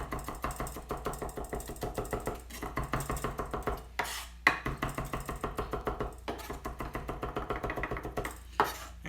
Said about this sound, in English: The next step is gonna be to chop it just like if you're gonna mince it